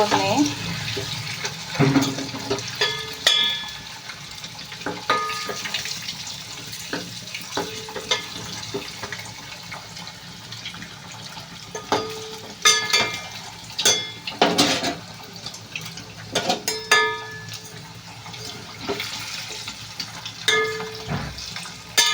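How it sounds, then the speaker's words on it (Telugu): Brinjal and eggs frying in hot oil, a steady sizzle and crackle with scattered pops and bursts running throughout, moderately close, under intermittent talk. "ఇవి ఎర్రగానే ఫ్రై అవుతున్నాయి"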